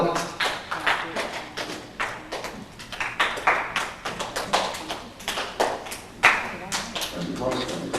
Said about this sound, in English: You can't clap till the person beside you claps.